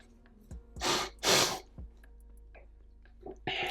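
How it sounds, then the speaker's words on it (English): A person sniffles and snorts through the nose, two strong close bursts followed by a few shorter, quieter sniffs, with no talking. "Sorry about my sniffling, by the way."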